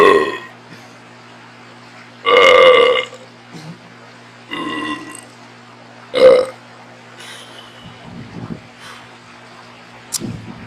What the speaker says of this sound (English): I think we're going to have to do an IPA burp.